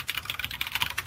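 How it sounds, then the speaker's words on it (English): Rapid, uneven clatter of keys on a computer keyboard, steady irregular taps close to the microphone with no talking. "I can hear you typing, LJ."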